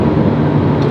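An Alpine A110 Légende GT's 1.8-litre turbocharged engine roars steadily and loudly, a dense low rumble with no breaks, under hard acceleration.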